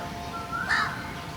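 A single short bird call outdoors, a harsh crow-like caw rising briefly above a steady background hiss.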